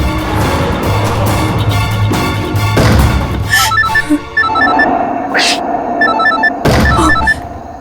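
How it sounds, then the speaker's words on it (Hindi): A phone ringtone chirps in short electronic bursts, coming in beeping patterns over a busy background of thumps and shifting noise. "आयशा को फोन करती हूँ।"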